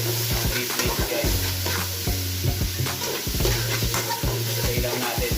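Beef mince fries in a hot pan for pansit bam-i, with steady loud sizzling. A utensil stirs it with repeated scraping strokes at a close, busy rhythm.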